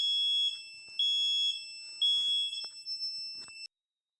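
A smoke detector alarm sounds in a lab demonstration of fire detection, giving loud, piercing electronic beeps in repeated pulses of about half a second before cutting off abruptly, with no voices.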